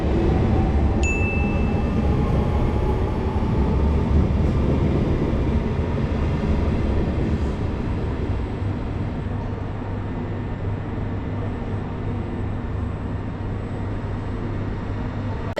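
A Swiss twin-deck train departing St. Gallen for Geneva rumbles steadily with low continuous rolling noise, a brief high chime near the start, the sound holding fairly constant as it moves off.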